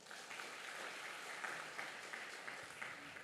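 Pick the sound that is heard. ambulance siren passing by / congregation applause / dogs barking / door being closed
congregation applause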